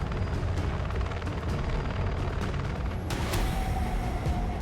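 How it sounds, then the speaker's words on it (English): A race helicopter flies over the Glencoe Skyline mountain race, a dense rhythmic rotor thudding, loud and close throughout, with a brighter burst of noise near the end. "only the race helicopter will have any chance of tracking them"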